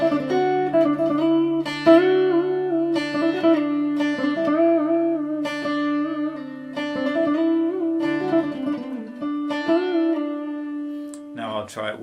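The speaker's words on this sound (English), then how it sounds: "If I just play the clean sound without the pedal," Clean electric guitar played without any effect pedal, a run of picked single notes and chords ringing out with steady sustain, close and fairly loud, with a brief different tone at the very end.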